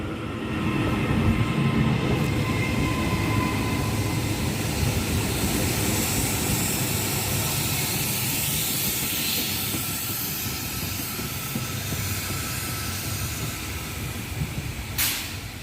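Class 397 electric train pulling out of platform 2 at Preston station, bound for Glasgow Central: a steady rumbling roar with hiss that holds throughout, fairly loud and continuous, with a brief sharp burst near the end.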